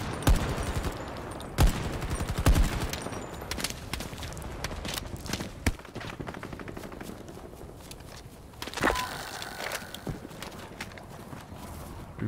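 Sniper rifle shots ring out in the video game Battlefield 2042: a few sharp, loud cracks spaced seconds apart over a constant clatter of battlefield noise, with footstep-like tapping in between.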